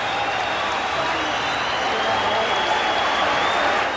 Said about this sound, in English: The Boston Garden ovation cascades down upon the head of one of the greatest heroes in American sport.